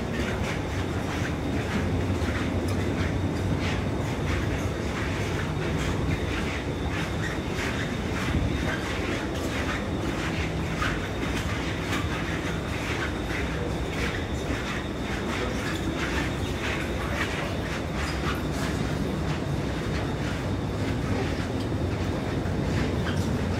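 An Alstom Movia R151 train runs steadily through Singapore, a continuous rumble with fine rhythmic clatter from the wheels throughout.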